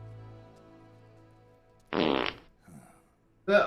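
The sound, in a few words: fart noise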